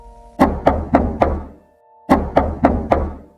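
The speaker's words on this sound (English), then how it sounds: "I heard something worse. A slow, steady knock." Two bursts of four slow, steady knocks on a door, loud and close, each series evenly spaced with a short silent pause between them and no voices.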